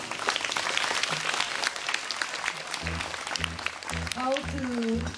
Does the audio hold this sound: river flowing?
no